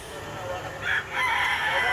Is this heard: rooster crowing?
yes